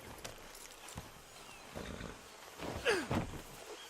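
Horse in the video game Red Dead Redemption 2, giving a short snort or whinny near the end amid soft hoof shuffles and ambient outdoor game sounds, fairly faint and without speech.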